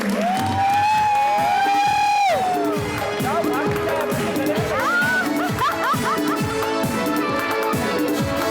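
A studio audience on an entertainment show cheers and whoops loudly for an arriving guest, with crowd noise sustained throughout over a rhythmic music beat and sliding melodic tones.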